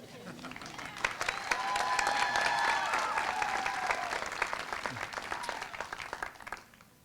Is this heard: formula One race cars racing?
no